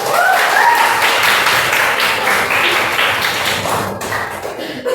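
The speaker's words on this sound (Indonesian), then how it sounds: "Hebat, tepuk tangan." Schoolchildren in a classroom clap their hands together, a loud, dense burst of close applause that keeps going steadily for several seconds.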